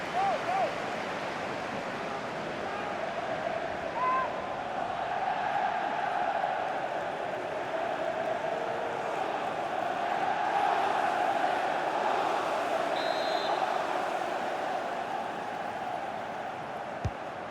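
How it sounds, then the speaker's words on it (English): Stadium crowd in FIFA 23 during a Man City vs Inter Milan Champions League match, a steady dense roar of cheering and chanting that swells slightly midway and runs under the whole stretch without letting up. "Being egged on by the crowd."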